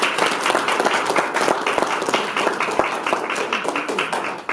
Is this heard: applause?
yes